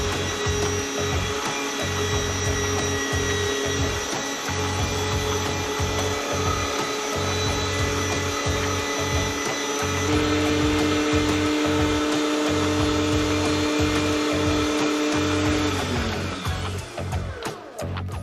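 An electric meat grinder runs continuously while grinding chicken thigh meat, a steady motor whine with a rhythmic low chugging pulse, changing pitch slightly partway through before winding down at the end.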